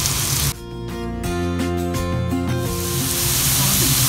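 Onion, curry leaves and green chillies sauté in a pan with a bright, close sizzle that briefly dips and then builds back to a steady fry, over a faint tonal background.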